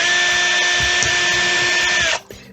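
A power drill whines at a steady, high pitch as it bores down the centre of melted plastic buttons, running loud and close before cutting off abruptly near the end.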